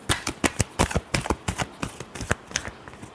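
Tarot cards being shuffled by hand, a rapid series of crisp riffling snaps and taps in a steady rhythm, close and alone with no voice.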